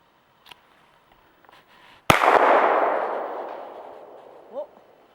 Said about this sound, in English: I'm going to shoot the first one with you